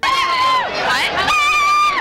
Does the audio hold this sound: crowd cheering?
yes